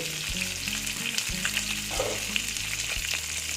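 Pabda fish sizzling steadily in hot oil in a pan, a constant bright crackle with a few louder spits and low clatters of handling, close and loud, with no voices.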